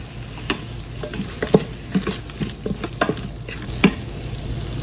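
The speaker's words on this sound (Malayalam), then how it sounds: "തക്കാളി നന്നായി മാഷ് ആവുന്ന വരെ നല്ലോണം സോട്ടേ ചെയ്യണം" Tomatoes sauté in oil inside an Instant Pot, with a steady close sizzle broken by scraping stirs and occasional sharper clacks of a spoon against the inner pot.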